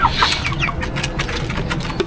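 Chickens on a poultry farm cluck steadily up close, with scattered higher squawks and some wing rustling, and no talk.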